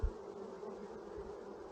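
Honey bees in an opened hive moved from a nuc to a brood box, with smoke in use, give a steady, dense buzzing drone that stays even and close throughout, with no voices.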